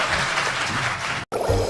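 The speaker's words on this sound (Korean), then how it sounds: "박수 부탁드립니다." Audience applause at a lecture by the head of a Korean national budget research institute, dense continuous clapping that breaks off briefly near the end and then resumes.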